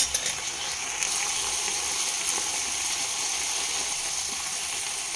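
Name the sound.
water poured from bowl into cooking vegetables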